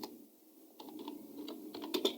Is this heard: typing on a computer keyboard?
yes